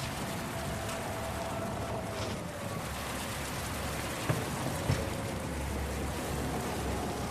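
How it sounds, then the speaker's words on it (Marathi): Steady rain pouring down, a dense even hiss of drops on surfaces, with a couple of faint knocks and no voices. "त्या पावसाला पण आत्ताच यायचं होतं का?"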